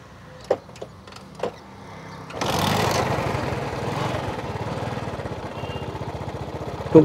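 Second-hand motorcycle engine at a used bike showroom: a few light clicks, then the engine starts and settles into a smooth, steady idle with an even putter close by.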